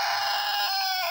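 A Kadaknath black chicken calls with a single sustained, harmonic, nasal cry that lasts about a second, close and loud.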